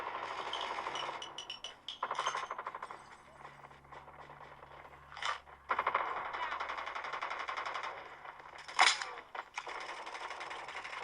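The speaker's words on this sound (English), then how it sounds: "I hear shooting already." Distant, faint bursts of game gunfire rattle on and off, with a few louder sharp shots standing out against a quiet background.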